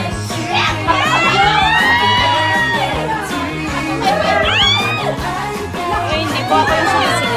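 A crowd of adults and children shouts, whoops and cheers loudly and continuously at a birthday celebration, voices overlapping in a dense, lively din.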